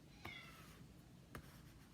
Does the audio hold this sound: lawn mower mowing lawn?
no